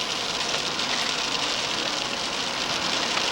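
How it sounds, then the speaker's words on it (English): Steady rain hisses without a break across the whole stretch, a dense, even wash of falling drops with no voices over it. "Looks like a pretty rainy day,"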